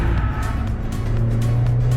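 A stock R53 Mini Cooper driven hard on a race track, its engine roaring loud and close with a sustained high-revving drone that rises slightly throughout.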